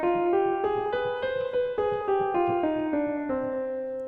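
A C harmonic minor scale sounded one steady note at a time, rising then falling back down, each tone ringing clearly and evenly paced with nothing else over it.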